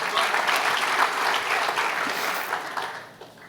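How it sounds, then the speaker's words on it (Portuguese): Church congregation claps in a loud, dense burst that holds steady and then tapers off near the end, with a few faint voices in the crowd. "Pode aplaudir o Senhor por essa bênção."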